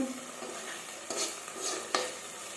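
Spice masala for palak paneer fries in a pan with a soft, steady sizzle, broken by a few sharp scrapes and knocks of a spoon stirring against the metal.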